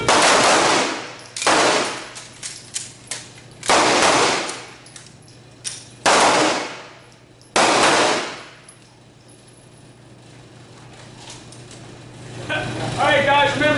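Handgun gunfire at a night shooting class, several loud close volleys of rapid shots in separate bursts a second or two apart, followed by a quieter stretch with voices near the end.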